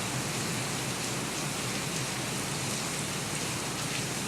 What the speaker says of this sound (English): The roof, you can hear it rumbling from the rain.